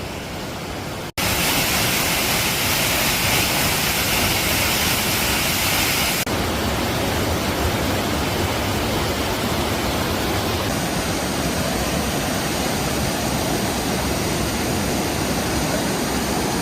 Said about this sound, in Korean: 여러분 여기가 비룡폭포예요 비룡폭포